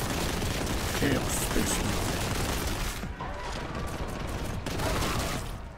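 Weapon fire in the video game Warhammer 40,000: Boltgun, a dense, loud run of overlapping shots and blasts that fills most of the stretch, with a player talking over it.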